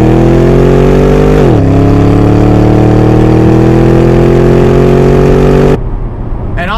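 Camaro ZL1 V8 with long tube headers and no catalytic converters, a loud close rumbling idle that dips, then holds a raspy, steady throaty drone before abruptly cutting back to a quieter rumble.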